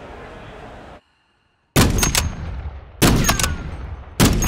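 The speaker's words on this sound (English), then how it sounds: "where the hell did my snipe shot go" Loud, close gunfire in the video game Call of Duty Warzone 2, with sniper rifle shots among it: a brief silence, then three sharp cracking blasts, each with a rumbling tail, spaced about a second apart.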